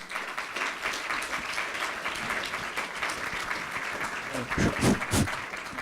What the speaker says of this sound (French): Merci de les applaudir également